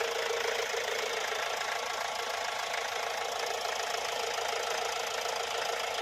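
A 2012 Mahindra Xylo D4 with a CRDi diesel engine idles steadily. The knocking hum stays even and fairly quiet throughout, with no talking.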